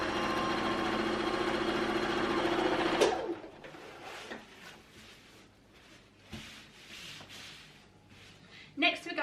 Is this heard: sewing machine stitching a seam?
yes